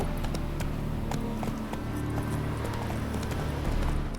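Horse hooves in The Witcher 3 video game, a fast run of repeated clip-clop hoofbeats that carries on without a break over a steady low rumble, close and fairly loud.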